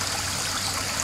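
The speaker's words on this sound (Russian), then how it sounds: "Вода течет." Water flowing in a small stream at a zoo in Antalya: a continuous close burbling trickle, steady and fairly loud, with no talking.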